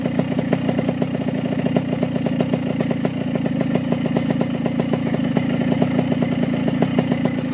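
A Yamaha RX-King two-stroke motorcycle engine runs close by at a fast, uneven idle, a loud continuous rattling putter with dense rhythmic firing pulses throughout.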